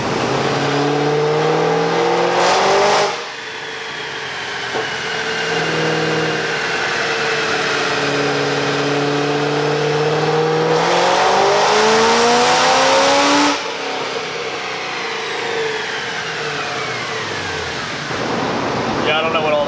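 A Whipple supercharged Chevy SS engine revs repeatedly, rising and falling tonal sweeps with sharp throttle blips and cuts, loud and close, with talking in between.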